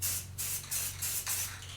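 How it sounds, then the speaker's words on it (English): Aerosol spray paint hisses in several short bursts onto a wheel rim, steady broadband spray with brief pauses, close and fairly loud over a low constant hum. "I think you have to spray paint the board."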